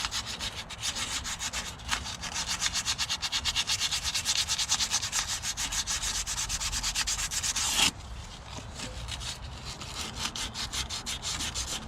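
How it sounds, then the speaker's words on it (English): Sandpaper rubs by hand against the rear wheel hub spindle of a 2001-05 Honda Civic in quick, steady back-and-forth strokes, close and fairly loud, with a brief pause near the end before the scraping continues. "It's always good to have a little bit of sandpaper in your box."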